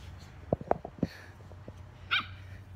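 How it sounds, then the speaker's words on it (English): Dogs playing outdoors give several sharp barks and a higher yelp, spaced irregularly over a low background hum, moderately close with no talking. "Right now they're playing, you know, that's what dogs do"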